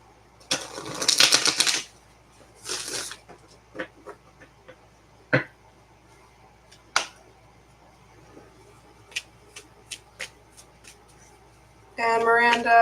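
A deck of tarot cards is shuffled and cut during a live reading: a dense riffling burst opens, scattered soft card taps and snaps follow, then a second flurry of shuffling closes.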